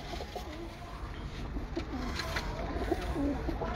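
Pigeons kept by a breeder coo softly in low, throaty repeated calls, moderately near over a steady background murmur, with no one speaking.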